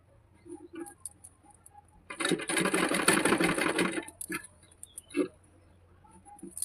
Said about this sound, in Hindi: तो हमें इस प्रकार से कपड़े को मोड़ते हुए हम सिलाई को लगाएंगे।